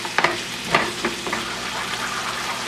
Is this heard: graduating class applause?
no